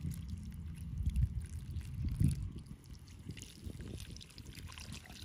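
Water poured onto sand at a beach, a rough, splashing gush in the low range that swells and fades over several seconds, with no talk during it.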